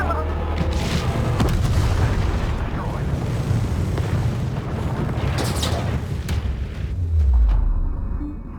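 Turret cannon fire in the space strategy game Homeworld 3: heavy booming blasts and rumbling impacts layered over a dense battle din, with a deep low thump near the end.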